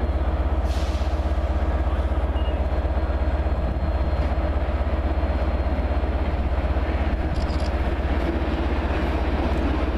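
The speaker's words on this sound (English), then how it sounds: "It's the Crompton doing the light engine move." A British Rail Class 33 Crompton diesel locomotive running light engine at London Marylebone station gives a continuous, loud, deep engine drone with steady rumble and brief hiss of air, close by.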